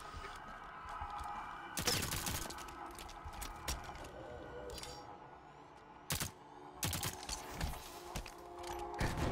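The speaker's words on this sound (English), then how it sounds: "But he's shooting." Gunfire in Halo 5: Guardians custom games, with several sharp, loud bursts spaced apart over a steady game background.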